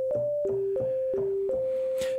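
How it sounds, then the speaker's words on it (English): Pure sine wave notes from the Bitwig Phase-4 synth, a short sequence of clean tones alternating between two pitches with soft clicks at each note start, played alone. "Play a note. We're just getting some sine waves out."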